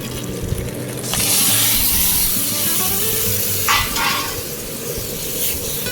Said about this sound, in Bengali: আমি ওই কাঁটাকুটিগুলো তেলের মধ্যে দিয়ে ভালো করে ভেজে নিয়েছি আর আমার ওই যে সেদ্ধ করে রাখা শাকটা ছিল সেটা আমি এর মধ্যে অ্যাড করব